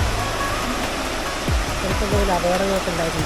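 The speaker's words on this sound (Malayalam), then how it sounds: "ഒരു ചെക്ക് ഡാമിൻ്റെ രൂപത്തിൽ ഇങ്ങനെ ഒരു പാറക്കൂടെ ഇങ്ങനെ ഒഴുകുകയാണ് വെള്ളം" Water rushes steadily over rocks at a check dam on Nisargadhama island in Coorg, a loud continuous roar with a voice talking faintly beneath it.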